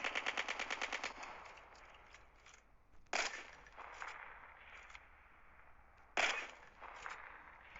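Bursts of M4 LMG fire in the mobile shooter Call of Duty Mobile: a rapid rattling volley opens, then two sharp louder bursts follow, with quieter game noise between them and no voices.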